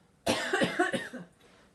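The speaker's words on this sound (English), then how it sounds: "if you want to cough, go ahead and cough" A single person coughs once, close and fairly loud, a short harsh burst, then quiet.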